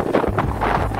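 Low, rumbling wind buffeting a microphone continuously outdoors in a housing estate in Mombasa, Kenya, with dull gusty thumps and a steady blustery roar throughout.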